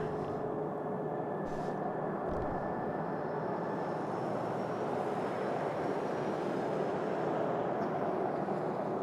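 A Delta CRJ jet lands on a snowy runway, a broad steady roar of jet engine and rushing air heard from a distance, with a faint whine running through it and no voices.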